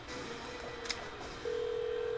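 A room service phone in the Nancy Drew Haunted Carousel game gives short electronic beeps, then a steady dial tone for the last second, with faint background music.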